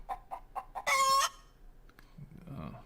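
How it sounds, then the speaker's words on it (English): Chickens cluck in a quick series of short calls, then one louder, drawn-out squawk stands out before softer scattered clucks and rustling follow close by. "They're my chickens."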